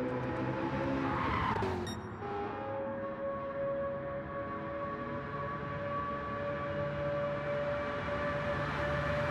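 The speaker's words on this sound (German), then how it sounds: "That sound is amazing from the Mazda. Yeah, rotary engine. Obviously, sounds different to other auto engines." A Mazda rotary-engine race car in a Nürburgring Nordschleife endurance sim race screams steadily at high revs, briefly tire-skidding at first, then a smooth sustained buzzing whine.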